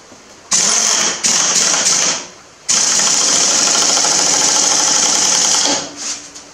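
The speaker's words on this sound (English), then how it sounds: "forgot to turn the air compressor on" An air compressor runs loudly and close by in a workshop, with a hissing, rattling drone that starts, cuts out briefly, restarts and runs steadily for several seconds before tapering off.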